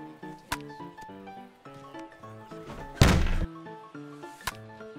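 Bat cracking a baseball for a base hit in the video game MLB The Show 22, a sharp loud impact burst with crowd noise, over game music and commentary.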